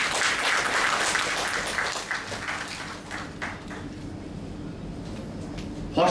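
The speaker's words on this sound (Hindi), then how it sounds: "एक जोरदार तालियां हो जाए सबके लिए।" Scattered applause from a hospital foundation-day audience in honour of the hospital team, a soft, steady patter of many hands that gradually thins out.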